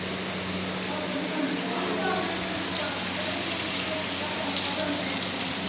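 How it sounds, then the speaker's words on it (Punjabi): Steady rain falls continuously in a broad, even hiss. The downpour has lasted about an hour and is soaking a floor outdoors. A faint low hum runs underneath, with no clear talk. "ਘੰਟਾ ਹੋ ਗਿਆ ਮੀਂਹ ਪੈਂਦੇ ਨੂੰ"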